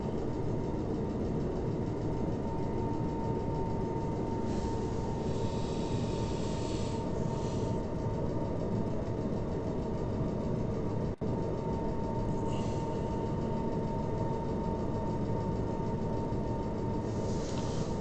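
Boeing 747 jet engines hum in Microsoft Flight Simulator 2020 on low throttle over the Rockies, a constant, even drone lasting throughout with faint higher whines rising and falling at intervals.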